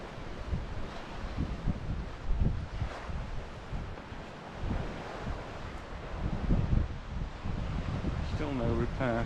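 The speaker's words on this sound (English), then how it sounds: "I'm sure you can hear the noise of the wind blowing." Strong wind buffeting the microphone by the sea at Santa Ponsa, Mallorca, with choppy water and surf rumbling underneath throughout.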